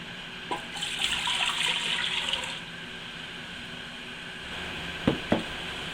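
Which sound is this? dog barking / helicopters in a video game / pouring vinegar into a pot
pouring vinegar into a pot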